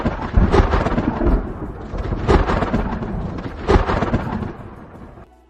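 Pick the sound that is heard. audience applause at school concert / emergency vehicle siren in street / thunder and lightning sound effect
thunder and lightning sound effect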